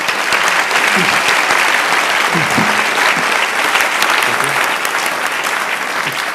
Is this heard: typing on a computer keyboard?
no